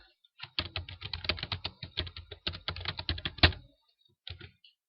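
Rapid typing on a computer keyboard while entering HTML code in a text editor, a dense run of close, crisp key clicks for about three seconds, then a brief pause and a few more keystrokes.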